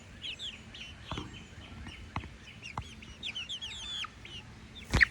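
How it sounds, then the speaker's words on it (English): Chickens cluck and chirp softly at close range, with a few sharp knocks or pecks and a louder squawk near the end. "Chickens."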